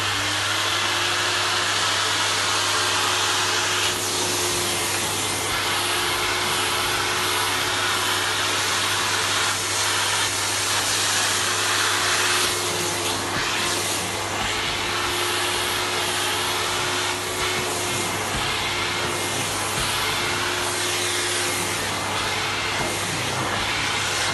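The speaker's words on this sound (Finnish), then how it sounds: "Pannaan höyry päälle ja imuroidaan." Steam vacuum cleaner working over a woven cotton tablecloth, a constant loud motor whine and airy suction hiss with a steady hum underneath, running without break and close by.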